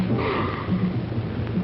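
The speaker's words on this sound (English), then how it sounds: "will you stop sniffling the flowers" A man sniffs flowers in the 1960 film Last Woman On Earth, drawing in close, loud breaths with a rushing, snuffling sound that runs without a break for the whole short moment.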